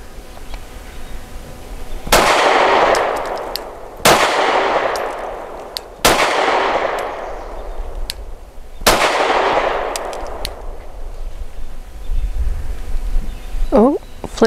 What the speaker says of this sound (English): I'm going to shoot at the right circle square from about 7 yards for accuracy